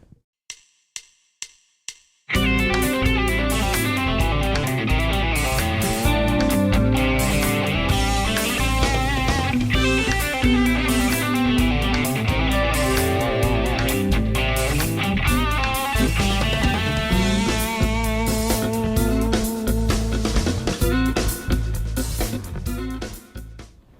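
Four metronome clicks count in, then a dense, fast fusion-style pentatonic electric guitar lick plays at full speed with heavy effects, loud and continuous.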